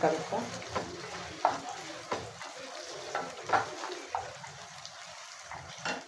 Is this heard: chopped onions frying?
yes